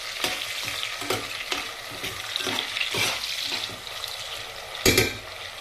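Tomatoes fry in a pan with radish and small fish, giving a steady sizzle and repeated scraping stirs, with a sharper clatter near the end.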